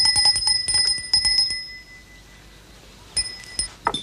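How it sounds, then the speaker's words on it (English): A servants' call bell rings in a series of quick bright metallic dings, several strikes in a first burst, then a pause and a few more rings, close and clear with no voices. "Harry, could you see why they aren't answering the bell?"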